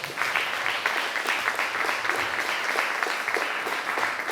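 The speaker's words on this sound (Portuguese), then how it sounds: "Uma salva de palmas." Steady applause from a church congregation during an evangelical service, dense and continuous with no pauses, filling the room at an even, moderately loud level.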